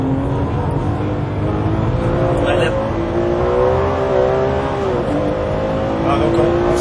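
Ferrari 599 GTB engine on the Fiorano track, with a loud, steady, close engine roar whose pitch climbs and drops through gear changes, while a voice talks over it.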